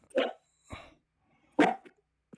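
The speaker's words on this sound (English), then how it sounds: "Your dog is just scuffling at the fact of island mode." A pet dog gives a few short, sharp barks in separate bursts, fairly close and loud against an otherwise quiet room, with no one talking over it.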